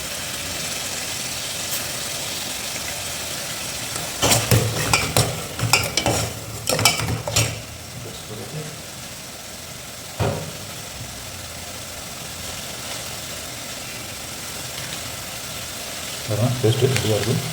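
Mint leaves and ginger-garlic paste drop into frying onions for Ramadan nombu kanji, then get stirred: a steady sizzle with bursts of scraping and clattering spoon strokes around the middle and again at the end.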